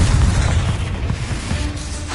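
A Confringo spell bursts in Hogwarts Legacy, a loud, rumbling boom with crackling debris that fills the moment and slowly tails off, with no voices over it.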